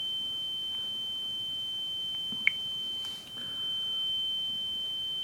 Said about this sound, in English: So as you can see, the alarm went off